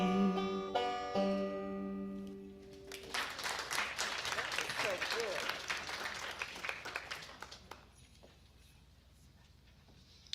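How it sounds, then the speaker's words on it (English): An audience at a Christmas talent showcase at an art center applauds after a Christmas song: a sustained wash of many hands clapping follows a held sung note, then thins into scattered claps, with voices faintly underneath. "Let's give Eddie and Lynn a big round of applause again for that wonderful version."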